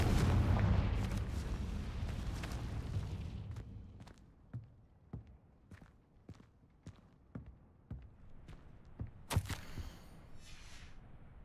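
A Confringo fire spell fired in the video game Hogwarts Legacy: a loud rumbling blast opens, then a series of sharp repeated cracks and impacts crackle through the scene, with a bright burst near the end.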